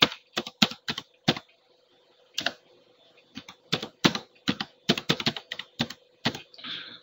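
Username being typed on a computer keyboard: bursts of crisp key clicks in short runs, close and fairly loud, separated by brief pauses, with no voices.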